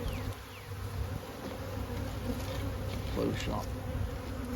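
Honey bees buzz steadily around an open hive full of brood, a dense close swarm drone that holds throughout with a few brief louder passes.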